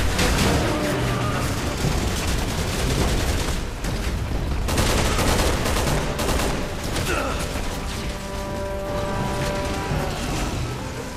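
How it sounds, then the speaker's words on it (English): Dense, continuous gunfire from the video game Resident Evil 6 rattles throughout, rapid automatic bursts layered with heavier blasts, loud and close, with a voice talking beneath it. "someone's trying to shoot me"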